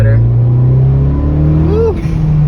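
A Ford Fiesta ST's engine drones loud and steady from inside the car, its pitch rising briefly as it accelerates, with a voice heard over it.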